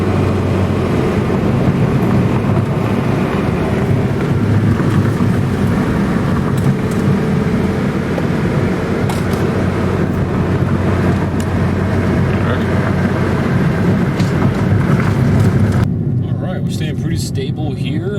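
A Honda Civic drives with a steady loud engine drone and road rumble, a hard pull held at constant intensity with a voice talking over it, cutting to quieter cabin sound near the end.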